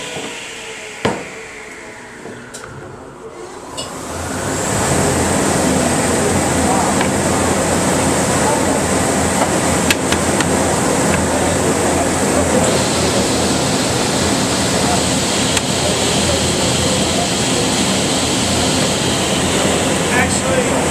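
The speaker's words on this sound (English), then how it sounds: "Can you turn on the vacuum?" A shop vacuum in a woodworking shop starts up after a few seconds of quieter room noise, then runs as a loud, steady whooshing drone to the end, with brief knocks and some people talking.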